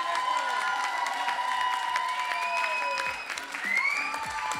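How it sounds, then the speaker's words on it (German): Audience applause for the newly crowned Miss Kärnten at the Miss Kärnten finale, a steady, dense wash of clapping mixed with some crowd cheering and whistles throughout. "einen kräftigen Applaus"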